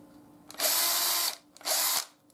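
Power drill boring a hole through a handmade sheath, two loud bursts of whirring drilling close up, each about three-quarters of a second, separated by a short pause.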